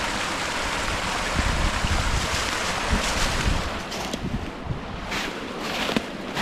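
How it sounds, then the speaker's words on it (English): A Maine wilderness brook runs high after rain, a steady broadband rush of flowing water filling the whole clip, close and fairly loud with slight surges and no voices. "Brook's running pretty good after that rain the other night."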